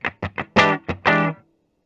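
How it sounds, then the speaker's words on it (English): A 2013 Gibson Les Paul Supreme in trans black, played through its bridge pickup on the normal setting. A few short picked notes come first, then two sustained chords that ring briefly and fade. Loud and close, with no voices. "So bridge pickup normal sounds like this."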